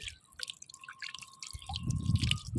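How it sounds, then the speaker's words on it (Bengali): Water drips and splashes while pieces of katla fish are washed, with scattered close drips and a denser watery splash toward the end, quiet and without talk. "আমি আগে মাছটাকে ধুয়ে নেই।"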